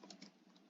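Quiet keystrokes on a computer keyboard, a handful of light, evenly spaced clicks in under a second with no voice over them.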